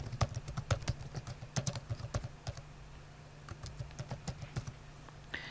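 Typing on a computer keyboard to enter a library name, with bursts of quick, light key clicks, a pause, then another run of taps, close and fairly quiet.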